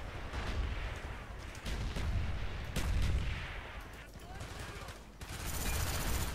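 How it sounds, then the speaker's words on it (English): Incoming mortar strikes in the Call of Duty Black Ops multiplayer game: a rapid series of booming impacts and gunfire crackle, dense and continuous, fairly faint in the mix. "Mortars incoming."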